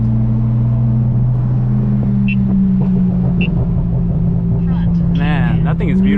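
A BMW F82 M4 engine drones with a deep, steady tone from inside the car, then rises in quick rev blips near the end as it downshifts.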